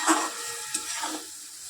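Chicken pieces sautéed in a pan for Bengali chicken kosha give a brief, steady sizzle with a few light stirring scrapes, close and moderately loud.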